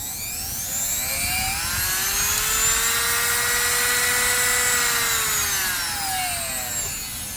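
A rotary tool with a flex shaft spins up to a high-pitched whine, holds a steady tone, then winds back down, running close and alone.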